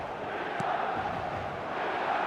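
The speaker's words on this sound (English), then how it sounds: "the crowd are reacting to that now" A stadium crowd's steady roar during an eFootball 2026 match, a broad, distant wash of voices holding at an even level throughout.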